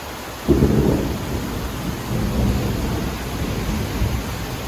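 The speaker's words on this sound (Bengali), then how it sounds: "আমাদের এই বারান্দাটাতে বেশি বৃষ্টিটা আসে, বৃষ্টির ঝাপটাটা এই বারান্দাটাতে বেশি আসে" Rain sweeps onto a balcony garden during a storm, with a deep rumble of thunder breaking in and rolling on under a steady, dense hiss of falling rain.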